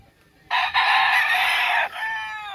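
A single fighting rooster crows loudly and close by at a gamecock farm, one long strained cock-a-doodle-doo, with a quiet room before and after.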